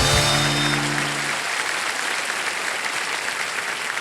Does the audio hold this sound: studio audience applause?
yes